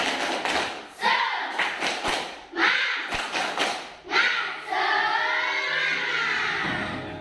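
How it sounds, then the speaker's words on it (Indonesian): Primary school class doing a rhythmic spirit clap in a classroom, a series of loud, close clap bursts in a patterned rhythm, followed by the children chanting together. "Tepuk semangat."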